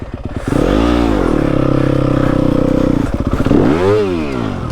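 A Yamaha WR250F dirt bike labours up a backyard hill, its engine rising into a long, loud sustained rev and then dropping before a second quick surge, close and dominant throughout.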